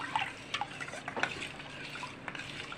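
A colostrum (junnu) cake batter with coarsely pounded pepper powder being stirred in a bowl, soft scraping and clinking strokes at an uneven pace, faint and close with no one talking.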